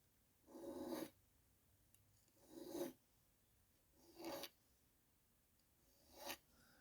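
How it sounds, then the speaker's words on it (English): Fine-tooth file making four separate passes over the seams of a split shank ring, each a short close rasping stroke with quiet pauses between, soft and dry. "I'm going to be using a fine-tooth file here and simply doing a couple of passes over these seams"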